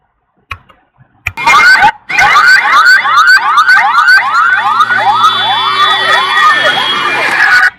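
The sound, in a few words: ambulance siren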